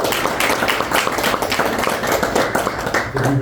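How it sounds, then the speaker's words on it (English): A meeting audience gives a warm round of applause, many hands clapping in a continuous dense patter that stays full and fairly loud, with faint voices underneath. "let's give a warm round of applause."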